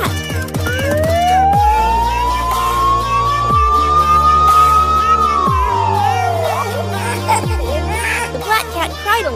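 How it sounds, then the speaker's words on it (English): An ambulance siren rises into a long sustained wail, then falls away, sounding loud and close over a busy cartoon-like scene with children's voices and music beneath it. "Someone nearby called an ambulance to help the white cat."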